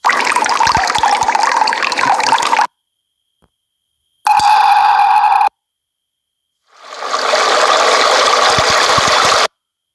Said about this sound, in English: That's a good sound of water that you can use.